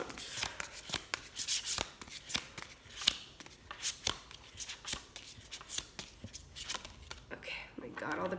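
Archangel Gabriel oracle card deck being shuffled by hand, quiet close riffling and slapping of cards in irregular bursts with soft whispery handling throughout.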